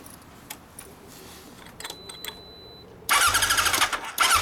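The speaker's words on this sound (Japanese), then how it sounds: "なエンジン音聞かせてもらえますか。" A 1999 Kawasaki ZRX1100 fitted with a Striker exhaust fires up after a few quiet clicks and key-like rattles, bursting into a loud, close, rumbling idle that swells with a quick blip at the end.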